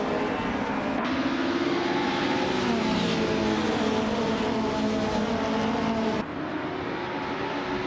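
Racing cars roaring off the start line, led by a 1995 Vauxhall Cavalier on pole, a dense loud wall of engine drone with rising revs and no talk, briefly dipping near the end.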